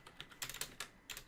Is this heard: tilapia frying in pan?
no